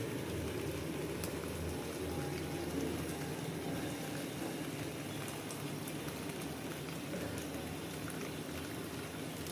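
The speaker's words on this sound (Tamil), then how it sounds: "இப்போ இந்த தண்ணி ஊற்ற போகிறோம்" Cooking water is poured into a pot of simmering plantain stem for sambar, giving a continuous hissing, bubbling wash of liquid that stays steady and close throughout.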